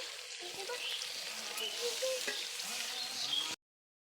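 Fried tengra fish added to a pan of spinach curry with some liquid give a moderate, steady sizzle with light stirring clatter, then stop abruptly.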